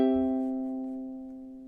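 A single ukulele chord closing measure 14 of a song, struck once and left to ring, its clear tone fading slowly and alone.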